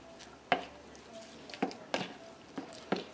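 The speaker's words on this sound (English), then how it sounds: "let's give that a good stir" A utensil stirs an egg into keto calzone dough in a bowl. Several separate soft, wet scrapes and squishes come at an uneven pace, close by and quiet.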